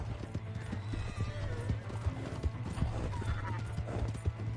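Horse hooves clip-clopping with neighing and whinnying during a horse theft in the Red Dead Redemption 2 video game, steady hoofbeats running throughout under game sounds and brief voices.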